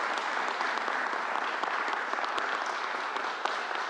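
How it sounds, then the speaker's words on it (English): A crowd at a vaccine event in the Southwest Bronx claps continuously, a thick, even wash of many hands at a steady loudness throughout, with no speech on top. "Let's give another round of applause."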